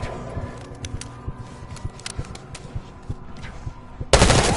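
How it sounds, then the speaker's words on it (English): Bursts of rapid automatic gunfire in Call of Duty: Black Ops 6 crackle at moderate distance from a lower floor, uneven and repeated, then a sudden loud burst of noise cuts in at the end. "You getting gunfire? Yes. Sounds like it's coming from one of the lower floors."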